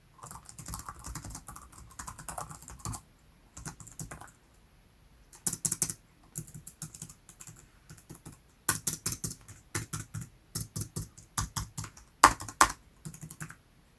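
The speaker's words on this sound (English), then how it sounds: "Here's how it sounds when typing." Typing on a ThinkPad TrackPoint II Bluetooth keyboard: quiet, close clicks of keys in quick uneven bursts, separated by short pauses, alone without talk.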